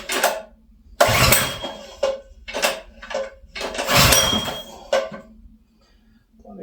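A Honda 212cc clone engine fitted to a converted yard kart sputters and revs in uneven bursts, surging loudly then dropping back to a low idle several times at close range.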